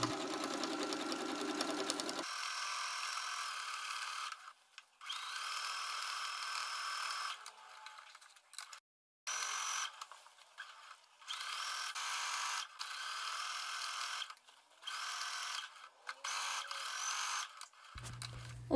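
A sewing machine runs close by, stitching a jacket seam one centimetre from the edge in long, steady whirring runs broken by brief stops and restarts.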